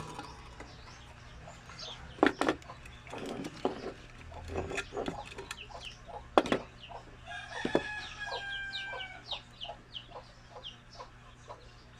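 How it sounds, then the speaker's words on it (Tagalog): Several chickens cluck nearby, with a rooster crowing partway through, against a constant farmyard background. "medyo maingay yung mga alagang manok natin"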